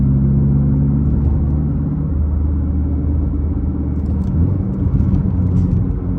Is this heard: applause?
no